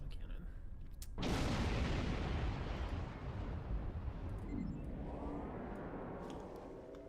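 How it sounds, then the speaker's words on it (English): Starship weapons battery and plasma cannon fire in the game Star Trek Online: a sudden heavy blast opens into a long, loud roaring rumble that slowly fades, with a faint tonal sweep near the end. "Weapons battery and plasma cannon."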